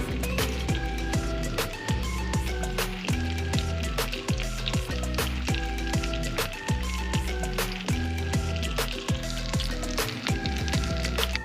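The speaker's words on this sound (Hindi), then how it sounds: "उसमें हमने डाल लिया है ऑयल, और अब हम इन्हें करेंगे फ्राई" Shami kebab bread patties fry in a pan of hot oil with a dense, steady crackle of fast popping bubbles that runs on without a break and without any voices.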